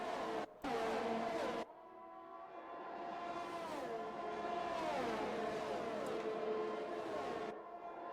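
Formula 1 race cars in a racing video game, engines whining and rising in pitch as they accelerate, a steady loud drone with shifting gear tones and a brief cut near the start.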